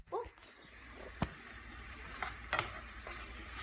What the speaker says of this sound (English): I'm just going to stir this up